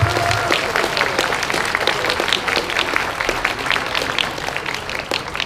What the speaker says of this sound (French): j'aimerais juste qu'on les applaudisse aussi,